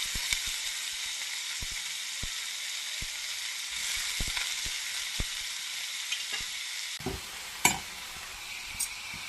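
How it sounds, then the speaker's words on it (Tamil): Chopped onions hitting hot oil with mustard seeds and green chilies, a steady bright sizzle and crackle with scattered pops from the pan, close and continuous, briefly louder when stirred near the end. "பொடியாக இருந்த வெங்காயம் போட்டு"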